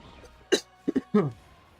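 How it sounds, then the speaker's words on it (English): A few short, harsh coughs, one sharp burst followed by a quick pair and then a longer rasping one, close and fairly loud with quiet gaps between. "So that's probably where all the coughing is coming from."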